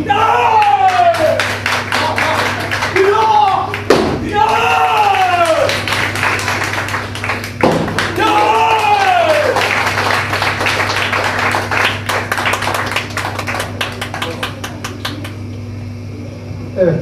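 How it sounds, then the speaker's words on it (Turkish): An audience claps at a karate award ceremony, crisp dense applause running throughout, loud and close, with an announcer's voice and steady hall hum underneath. "Büyük alkışlarınızla sahneye alıyoruz."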